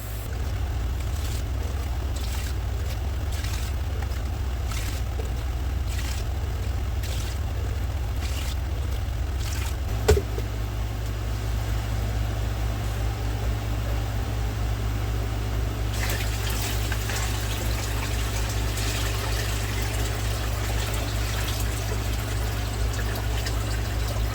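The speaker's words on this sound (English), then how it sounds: "Now I'm going to start filling it with water." Water pouring steadily into an aquarium tank during setup, a continuous low rushing flow that stays even and close throughout, with small bubbling changes partway.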